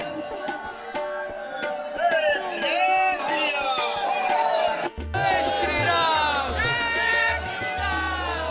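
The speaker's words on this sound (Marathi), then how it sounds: "हनुमानगडीला भयंकर गर्दी होती." Dense crowd noise at the packed Hanumangarhi temple in Ayodhya: a continuous babble of many voices with shouts and chatter close around, and a low rumble joining partway through.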